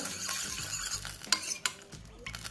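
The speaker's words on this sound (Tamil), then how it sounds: "நல்லா மிக்ஸ் பண்ணிக்கிட்டே விடணும், மிக்ஸ் பண்ணி விட்டுட்டே இருக்கணும்." Salt being stirred into oil to make homemade glycerin, a steady scraping stir with a few sharp utensil clinks against the pot, close and moderately loud with no talking.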